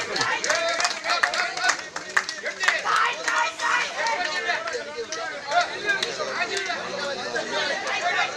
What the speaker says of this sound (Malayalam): കൈയടിച്ച് പ്രോത്സാഹിപ്പിച്ചു കാണികൾ